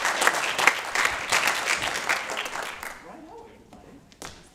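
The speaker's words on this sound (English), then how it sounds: "Round of applause to everybody" Audience applause at a pitch fest for a Lancer tank event, a dense burst of many hands clapping that swells early, then thins and fades toward the end with a few scattered claps.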